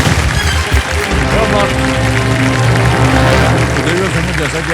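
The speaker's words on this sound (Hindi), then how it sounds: "जोरदार तालियां बज जाए इनके लिए।" A studio audience on the KBC quiz show claps in dense, sustained applause throughout, loud and close, with a host's voice and musical tones mixed in over the clapping.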